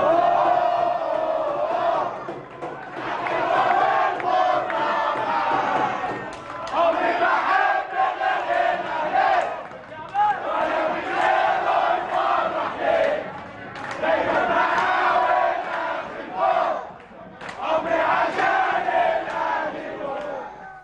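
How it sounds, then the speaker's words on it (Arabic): Egyptian and Qatari football supporters chant and roar in unison in a stadium in Qatar, a loud, sustained crowd with rhythmic swelling calls and brief dips, filling the whole stretch. "ده افراح المصريين في قطر ومعاهم بعضا من الاخوه القطريين"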